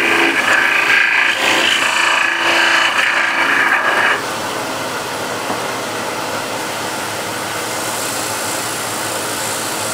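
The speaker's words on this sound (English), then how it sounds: "apply the wax" A rag rubs wax into a small wooden piece, working it into the corners with brisk, steady close-up friction that turns to a softer, quieter rub after about four seconds.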